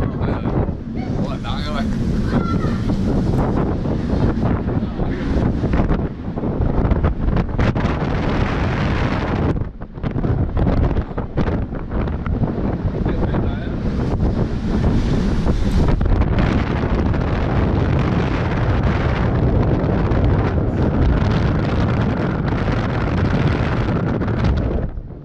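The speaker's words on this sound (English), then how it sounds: "It's very windy out here." Strong wind roars and buffets the microphone on a ship's open top deck, with heavy rumbling gusts and faint water noise beneath, almost continuous.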